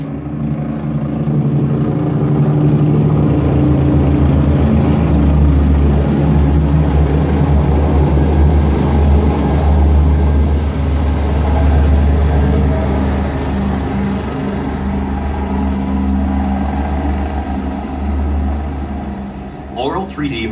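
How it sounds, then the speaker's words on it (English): Helicopters in a surround sound theater demo: a steady low, loud rotor and engine drone building and sustaining for most of the stretch, easing off toward the end with a brief chirp at the close. "helicopters will slowly creep up from the back of the theater"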